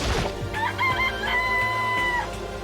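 A chicken in the Danganronpa: Trigger Happy Havoc video game gives a string of close, loud, pitched calls, with short repeated squawks leading into a long sustained crow. Game music plays under it.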